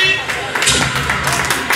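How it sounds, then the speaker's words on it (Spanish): Loud, dense clapping from a party crowd, with claps and cheering running steadily through the whole stretch under lively background music and voices. "Vean los aplausos, las palmas fuertes"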